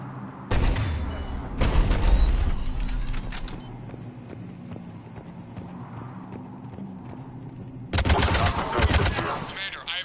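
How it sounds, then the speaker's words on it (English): Cannon fire in the video game Mass Effect 3 sounds in loud, dense bursts of booming blasts, separated by a quieter stretch of rumbling combat ambience, with brief voices. "The cannon fire is clearing the way."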